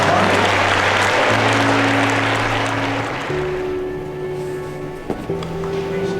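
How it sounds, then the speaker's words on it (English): Applause from an audience at a school assembly ripples loud and dense at first, then thins and fades as sustained tones and a low hum take over. "a round of applause for our two students, Aaron Palupo and Olivia DeLay"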